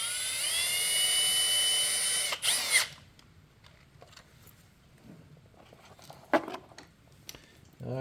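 A power tool, likely an impact driver or drill, runs steadily for about two and a half seconds while bolts are cross-tightened on a Suzuki DRZ 400 motorcycle, then stops, leaving quiet clicks and handling noises.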